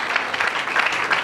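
A church congregation claps together in a dense, steady burst of applause that stays fairly loud and even throughout, with a faint murmur of voices underneath.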